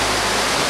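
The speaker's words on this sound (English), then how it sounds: "Waterfall." Steady broadband roar of a waterfall in Vietnam, loud and close, a dense continuous rush of falling water with no other sounds.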